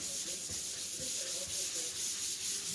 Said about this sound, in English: So now what I'm going to do is to wipe this off, any excess.